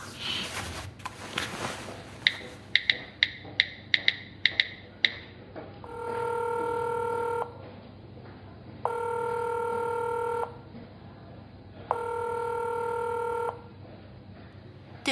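A telephone call rings out unanswered: a few dialing beeps, then three long evenly spaced ringback tones repeating in a steady pattern, clear and fairly close.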